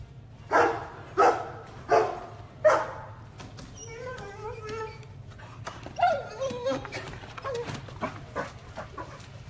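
An excited dog barks and yips on a doggy school bus, four loud evenly spaced barks followed by whimpers and higher yips, close by with no talk.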